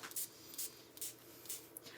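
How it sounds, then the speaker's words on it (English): Liquid sprayed from a spray bottle during a DIY craft, several short, sharp hissing bursts in quick succession, close and fairly quiet. "And I am actually going to be spraying it one more time."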